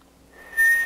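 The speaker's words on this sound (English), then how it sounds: "when I whistle it" A single sustained human whistle on one steady pitch starts faintly, then swells abruptly to a loud, clear tone that holds to the end, with no other sound.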